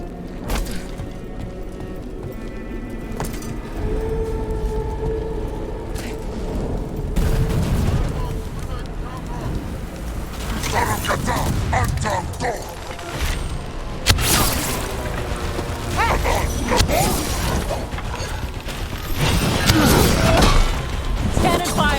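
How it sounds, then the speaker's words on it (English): Heavy cannon fire and explosive booms in a Dragon Age: The Veilguard battle, rumbling blasts and crashes layered over a dense score, with character voices shouting through the din. "Cannon fire! Get clear!"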